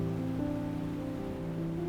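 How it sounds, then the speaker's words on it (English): Barnafoss, a small waterfall in Iceland, gives off a steady, even rush of water, a constant broad wash with no breaks, fairly faint and alone. "A little further upstream is the Barnafoss waterfall."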